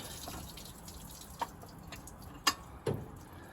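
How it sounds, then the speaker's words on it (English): Water drips from an old water pump being removed from a Chrysler Avenger, a few faint, separate drops falling irregularly against a quiet background. "Obviously there's plenty more water coming out of there."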